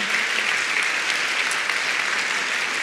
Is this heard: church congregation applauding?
yes